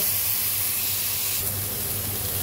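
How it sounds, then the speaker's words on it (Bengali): Ginger garlic paste sizzles in hot oil with onions in a pan, a steady close hiss running throughout with no talk. "তারপরে দিয়ে দিব আদা রসুন বাটা"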